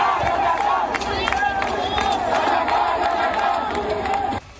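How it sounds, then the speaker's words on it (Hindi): A large crowd of student protesters in Bangladesh chanting slogans together, loud rhythmic massed voices with shouts rising over the din, cutting off abruptly near the end. "छात्रों की ये भीड़ बार बार रजाकार रजाकार का नारा लगा रही है"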